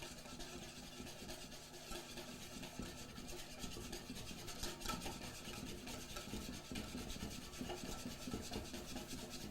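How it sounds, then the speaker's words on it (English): A whisk rubbing and scraping steadily against a bowl as extra virgin olive oil is beaten into a Dijon mustard vinaigrette, a faint continuous swishing rhythm close by with no voices. "we're using a good extra virgin olive oil. And we just want to whisk that in here."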